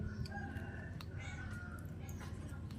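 A house cat meows repeatedly in a home kitchen while bamboo-shoot curry is being cooked for breakfast. The meows are moderate and sit over a steady background hum and clatter.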